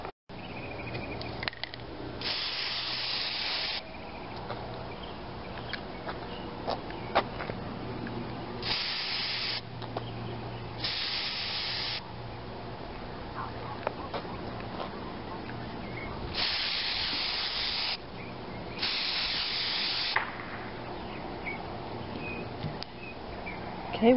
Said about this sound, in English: Here's my primer I'm going to use, and I will just spray it on them